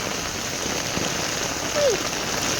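Sudden heavy rain pouring steadily as a dense, constant hiss at a birthday gathering, with a brief faint voice partway through.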